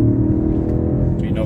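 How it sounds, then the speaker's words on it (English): A 2021 Peugeot 2008 petrol engine hums low and steady from inside the cabin, with a brief, faint rise near the end. "This car has a very loud noise, like engine noise."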